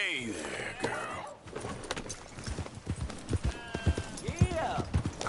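Horse hooves clip-clopping in the video game Red Dead Redemption 2, a steady run of close hoofbeats under a voice and game ambience.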